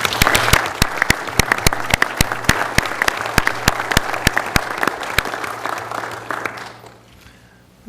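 Applause at a county commissioners' regular meeting: a steady run of close, crisp claps from a modest group that goes on for several seconds and then fades into quiet.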